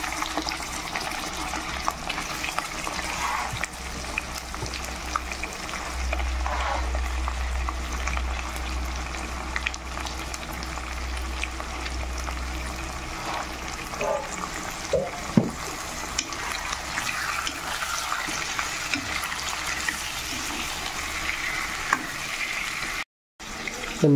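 Chicken meat frying with onions in a pan gives off a low, steady sizzle, fairly quiet and close, with occasional stirring clatter and brief gaps.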